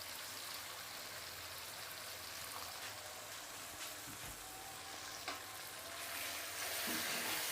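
Fish frying in a pan after a little water is added, a loud, steady hissing sizzle with crackling throughout and no talking.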